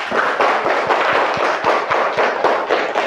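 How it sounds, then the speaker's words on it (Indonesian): A classroom of primary school children clapping for a classmate named Zahra during an Islamic religious education lesson, a loud, close, rhythmic burst of many small hands beating in a fairly even pattern throughout. "Kita kasih tepuk tangan untuk Zahra"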